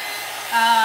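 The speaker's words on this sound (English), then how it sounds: "Okay, heat gun." A heat gun blows hot air in a steady, whooshing roar with a faint whine. It grows slightly louder and takes on a higher tone partway through, with no voices.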